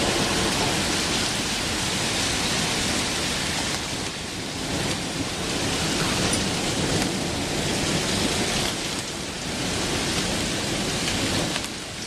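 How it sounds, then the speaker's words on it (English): A Chicago thunderstorm with wind and heavy rain: a dense, continuous downpour roar with a constant low rumble of thunder beneath it, steady and loud throughout. "Listen to the constant, virtually unending rumble."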